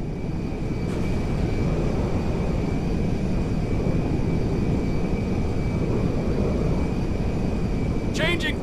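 A jet aircraft landing in Grand Theft Auto 5, heard as a loud, steady engine roar that fills the whole clip, with a short high chirp near the end.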